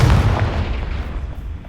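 A Confringo blasting spell in Hogwarts Legacy bursts into a loud, deep boom that rumbles and fades over under two seconds, alone and close.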